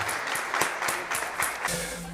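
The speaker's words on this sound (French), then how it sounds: "S'il vous plaît, un tonnerre d'applaudissements pour le Paris Saint-Germain." A brief, faint burst of applause with distinct individual claps in an uneven rhythm, lasting about two seconds.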